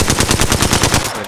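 Rapid automatic gunfire in Apex Legends, a fast steady burst of loud, close shots that stops abruptly near the end, with no talk over it.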